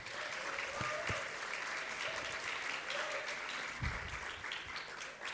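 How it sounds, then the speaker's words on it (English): Steady applause from participants closing a discussion at an international webinar, fairly faint and even throughout, with a few brief low thumps. "Give a round of applause once again."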